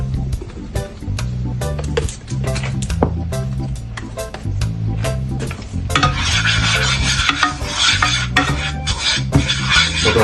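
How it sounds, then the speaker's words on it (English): A utensil stirs and scrapes curry in a cooking pot, with rhythmic metallic clinks and wet squishing that turn louder and busier toward the end, and no talking. "I'm cooking the curry a little first."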